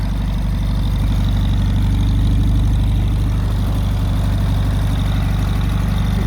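A 1985 Mexican Volkswagen Beetle 1200 engine idles steadily and loudly up close, a low rhythmic chugging that stays constant throughout with no talking.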